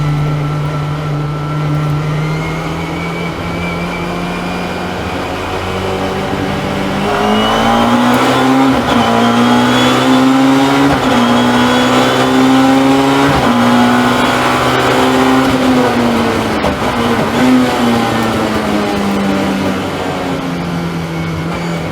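Super Tourer race cars on a circuit at a pre-1993 touring car race, with a loud engine note that climbs in pitch as the cars accelerate, followed by a brief shift and a second surge, heard continuously with no talk.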